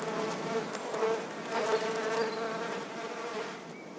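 Bees buzzing in a steady, close drone that holds throughout with slight swells in loudness, a soft insect hum with no voices over it, set within a Winnie the Pooh storytime scene.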